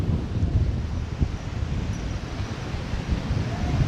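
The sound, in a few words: very strong wind at Legian Beach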